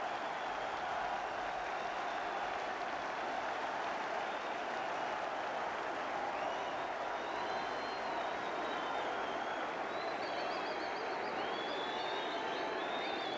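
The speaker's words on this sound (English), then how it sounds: "Applause from the Leeds supporters." Leeds United supporters at Old Trafford applaud at a 1979-80 First Division match against Manchester United after a goal. The crowd noise is a steady, faint wash, distant and continuous throughout.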